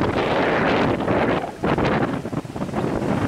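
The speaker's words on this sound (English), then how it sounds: "A bit windy, so you can expect some noise in the recordings" Strong wind buffets the microphone at a coastal viewpoint, producing a continuous loud rumbling roar with gusty surges and a brief lull midway.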